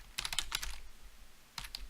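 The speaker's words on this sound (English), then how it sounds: "Let's type in some text here to make it look right." Bursts of keystrokes on a computer keyboard, a quick cluster of clicks followed by a pause and a second shorter burst, close and fairly quiet with no talking.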